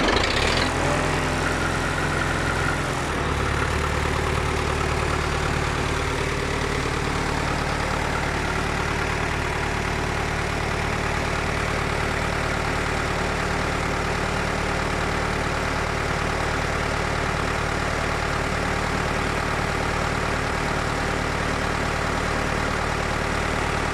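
A Someca 715 tractor engine cranks and catches with a loud burst, then settles into a continuous, heavy diesel idle that runs steady and close for the rest of the stretch, with no voices.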